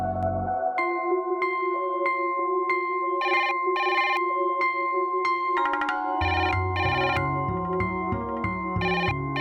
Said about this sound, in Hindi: घर पर कोई फोन नहीं उठा रहा है।